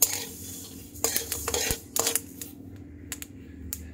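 Flaxseeds roast in a pan as they are stirred, giving close, dry clatter and scraping with small bursts of popping and crackling against a low background hum.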